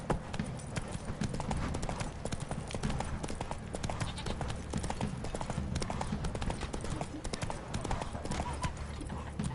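Roach the horse in The Witcher 3 gallops with steady, rapid hoofbeats, a dense continuous clip-clop rhythm under game ambience, while a voice briefly speaks over it.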